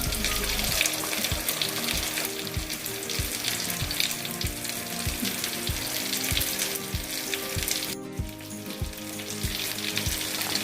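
A test ball of vada batter drops into hot oil and fries with a continuous bubbling sizzle, broken by a regular run of soft taps and spatters, with a brief dip near the end.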